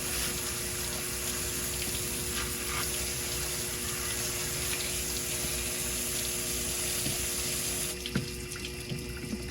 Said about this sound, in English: sometimes the injection pump needs a little water in before we can get her fired up again.